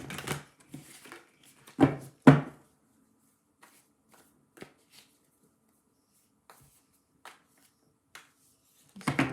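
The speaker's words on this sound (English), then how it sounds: "These cards are hard to shuffle." Tarot cards are shuffled by hand in a few quick riffling bursts and snaps early on, then soft sparse taps and handling noises follow in a quiet room, with one brief spoken word.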